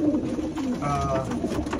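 Racing pigeons cooing nearby as they are put into a basketing area, soft low throaty calls over a faint background hum.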